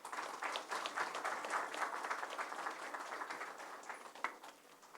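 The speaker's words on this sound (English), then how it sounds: "Let us welcome with a round of applause." An audience at a corporate natural gas business event gives a steady round of applause to welcome the managing director. The clapping is moderately distant and fairly quiet, tapering slightly toward the end.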